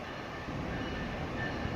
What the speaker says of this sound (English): So, Alec is operating train 2150 on his way to Boston.